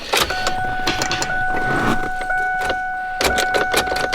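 A neglected Cobra car fails to start and does not turn over: a key jangles and clicks and a steady electronic chime sounds, but there is no engine cranking, all heard close and inside the car.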